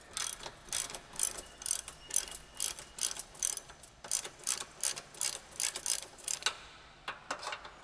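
Ratchet wrench with a 15mm deep socket loosening sway bar bolts on an S197 Mustang, clicking in a steady rhythm of repeated close metallic ratchet strokes, alone without talk.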